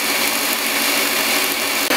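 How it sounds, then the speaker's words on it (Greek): Electric stand mixer beating gingerbread cookie dough, a steady loud whirring motor hum that runs without pause, with a brief dip near the end. "το μίξερ μας θα αρχίσει να χτυπάει ζύμη"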